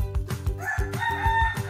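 A green junglefowl crows loudly and close by, its hoarse call rising over a fast run of rhythmic low clucks or wingbeats.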